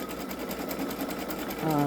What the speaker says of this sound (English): now it's doing the satin stitch